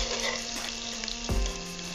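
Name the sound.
paneer frying and sizzling in a pan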